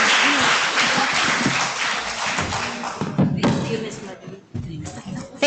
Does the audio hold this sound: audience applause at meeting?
yes